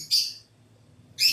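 Small pet birds chirping indoors, two loud, close bursts of shrill tweets separated by a brief quiet gap.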